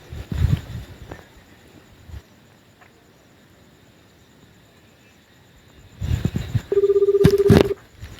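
Several short beeping tones of dialing, then a telephone rings loudly a few times close by, with faint handling noises in between.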